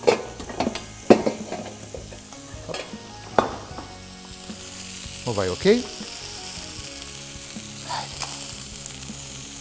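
Bacon fries crisp in a pan, sizzling under intermittent stirring and clinks of utensils against cookware, with brief spoken remarks in between.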